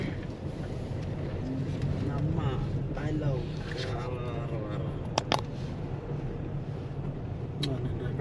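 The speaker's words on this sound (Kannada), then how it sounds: "ಬೋಟಿಂಗ್ ಇದೆ ಬೋಟಿಂಗ್ ಬೋಟ್ ಸ್ಪೀಡಾಗಿ ಹೋಗ್ತಾರೆ" A motorboat drones steadily across the water while people talk nearby, with a couple of sharp knocks partway through.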